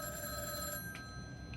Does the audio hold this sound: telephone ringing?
yes